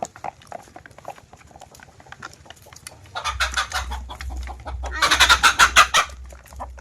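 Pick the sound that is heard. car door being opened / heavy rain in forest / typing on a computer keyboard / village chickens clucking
village chickens clucking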